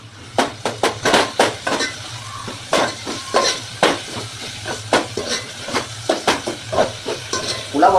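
Masala for veg pulao, with turmeric and salt, sizzles in a pan while a spoon stirs and scrapes in quick repeated strokes over a steady frying hiss.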